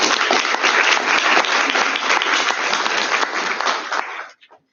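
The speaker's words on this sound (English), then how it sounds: "Applause, guys." Dense, loud audience applause at an IVSA veterinary students' congress in Nepal, a steady wash of many hands clapping together that carries on for about four seconds, then stops abruptly and leaves silence.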